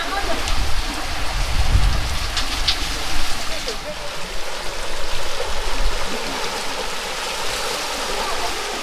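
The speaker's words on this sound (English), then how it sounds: "I just want to point out that that's the rain." Steady rain pouring down, a dense wash of hiss with rushing water beneath it, continuous and fairly loud throughout.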